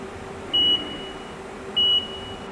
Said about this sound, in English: I got the ding alarm in there just for locating